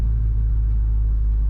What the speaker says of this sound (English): Today we're driving a very nice 1935 Ford Deluxe.